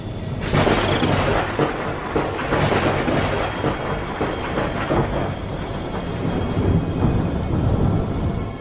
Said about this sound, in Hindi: तभी अचानक उस समुद्र में तेज तूफान उठने लगा और लहरें ऊपर नीचे करने लगी।